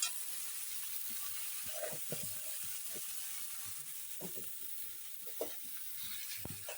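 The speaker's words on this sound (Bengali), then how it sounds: "লবণ হলো কি একটু ভালো করে নেড়ে নেই" Mixed vegetarian vegetables being stirred in a frying pan, soft scraping strokes over a steady quiet sizzle of oil, close and low in level with no voices.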